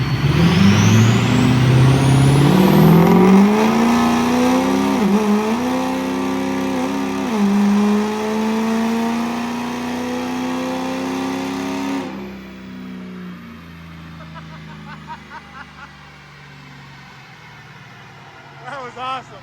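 A heavily modified diesel pickup tuned past 650 horsepower revs hard on a dyno during a simulated quarter-mile pass, its engine note climbing through several gear shifts for about twelve seconds before cutting off sharply to a low idle.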